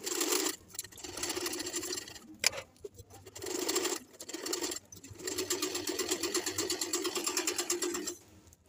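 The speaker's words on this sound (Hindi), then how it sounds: "अब हमने इस पर सिलाई लगानी है" A domestic sewing machine stitches the neckline of a suit in several close bursts of rapid mechanical whirring, separated by short stops.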